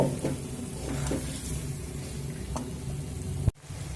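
A spice paste with salt sautés in a pan over medium heat, giving a soft steady sizzle with a few faint stirring scrapes and a brief knock near the end.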